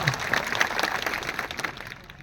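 An audience claps for an organizing team in a short burst of dense, fairly faint applause that tapers off toward the end, with no voices over it.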